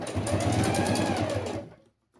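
Sewing machine stitching a closing seam along the edge of a fabric box-style cosmetic pouch, a steady close whirring run for about a second and a half before stopping abruptly into silence.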